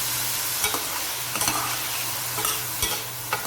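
Sliced onions sauté in a pan with salt for a tomato curry, a steady soft sizzle with a few sharp scrapes of a spoon against the pan at irregular intervals.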